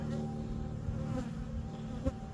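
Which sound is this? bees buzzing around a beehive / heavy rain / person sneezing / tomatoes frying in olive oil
bees buzzing around a beehive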